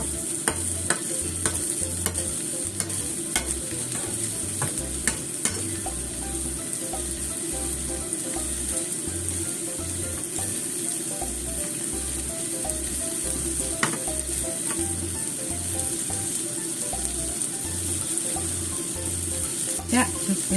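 Cabbage wedges frying in a hot pan give a steady, close sizzle throughout, with a continuous crackling hiss and occasional sharper pops. No talk is heard.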